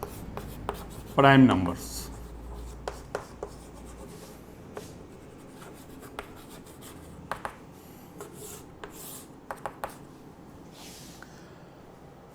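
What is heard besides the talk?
writing out a topic while teaching maths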